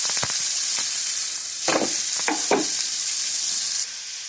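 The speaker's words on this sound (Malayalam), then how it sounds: "അതിലേക്ക് നമ്മൾ അരിഞ്ഞു വെച്ചിരുന്ന ഓമയ്ക്കയും സവാളയും തേങ്ങാക്കൊത്തും കൂടെ ഇതിലേക്ക് ഇടണം" Chopped papaya, onion and coconut pieces stir-fry in a hot pan for thoran: a loud, steady sizzle with several scraping stirs in the middle, then the hiss drops sharply near the end.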